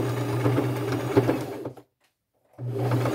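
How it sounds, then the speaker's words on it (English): A sewing machine straight-stitching the sides of a bag made from thrifted denim jeans, running with a steady loud whirring hum, stopping for about a second of silence, then starting again. "I'm just going to go to my sewing machine and with a straight stitch, sew all three sides."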